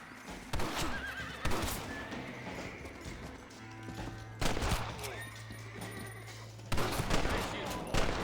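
Horse neighing and whinnying with hoofbeats in the Western video game Red Dead Redemption, several sharp calls standing out over a busy game mix with gunfire bursts.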